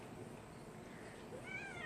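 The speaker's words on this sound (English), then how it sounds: "This cat wants some attention." A cat meows faintly near the end, a short rising call set against steady outdoor background noise on a farm with goats.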